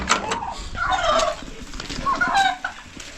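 A farm turkey gobbles repeatedly nearby, loud warbling calls coming in two or three bursts with some clucking fowl mixed in and no speech.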